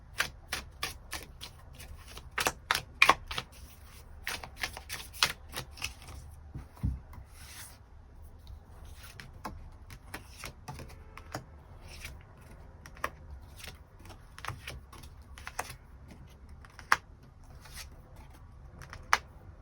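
Tarot cards shuffled and drawn at close range, giving a long run of crisp riffling flicks and soft slides with short pauses between them.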